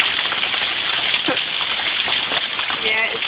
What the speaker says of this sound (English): It is raining buckets right now